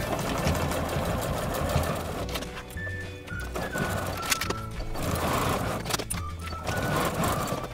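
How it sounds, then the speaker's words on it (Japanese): Sewing machine stitching a felt box pouch with a 1 cm seam allowance, rapid rhythmic clattering in bursts with short pauses, close and steady. "縫い代1センチで縫っていきます。"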